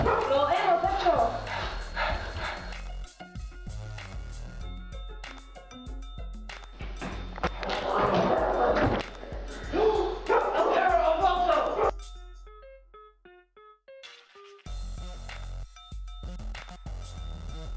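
Dog barking and yipping in a video game, repeated cartoonish yaps and whimpers mixed with game music and effects, with a person talking over much of it and a brief quiet stretch near the end.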